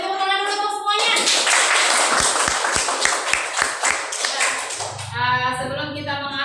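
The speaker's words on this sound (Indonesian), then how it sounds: "Kita beri tepuk tangan dulu untuk semuanya." A class group claps hands together, a loud burst of rhythmic clapping with several distinct strong beats near the middle, framed by voices before and after.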